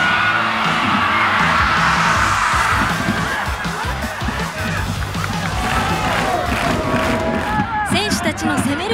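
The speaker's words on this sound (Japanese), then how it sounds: "選手たちの攻める姿勢にファン、サポーターも手拍子で後押しをします" Football fans and supporters in a stadium crowd clap in rhythm to urge on their team, a loud continuous wash of crowd noise and cheering with dense, fast clapping throughout.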